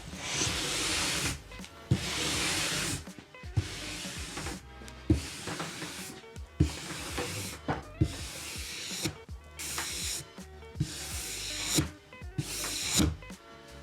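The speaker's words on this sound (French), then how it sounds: "Pour le brossage, on va maintenant se munir de la brosse bronze." A bronze brush scrubbing the waxed base of a cross-country ski, repeated firm rasping strokes in a steady back-and-forth rhythm, close and fairly loud with short pauses between passes.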